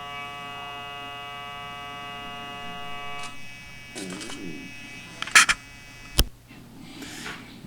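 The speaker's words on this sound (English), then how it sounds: "That will stop the speaker from buzzing" A small speaker wired into a light-and-sound electronics experiment circuit gives a steady, harmonic-rich buzz for about three seconds, then falls silent, followed by faint rustling and a few sharp handling clicks.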